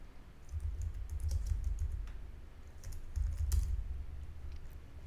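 Computer keyboard typing in two bursts of rapid, close key clicks over a low background hum, with a brief pause between them as text is edited.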